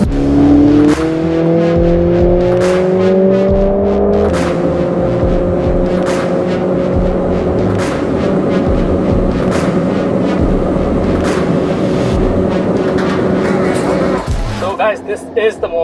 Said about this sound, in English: driving a hatchback at this speed